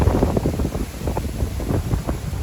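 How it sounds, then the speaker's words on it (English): Strong Hurricane Milton wind gusts buffet the microphone outdoors in a yard, a steady loud rumbling roar that swells and eases with no voices. "You can hear that wind kicking up."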